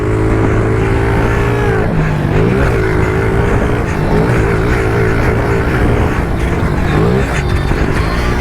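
Pit bike engine revving hard in a sandy dirt race, loud and close throughout, its pitch climbing and dropping as the throttle opens and closes.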